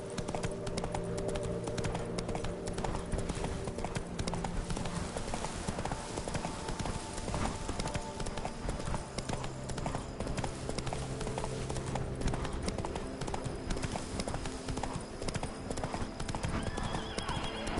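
A horse in The Witcher 3: Wild Hunt galloping with a steady, rapid clip-clop of hooves close by, punctuated by neighs and whinnies, a dense game soundscape running underneath and a voice briefly heard.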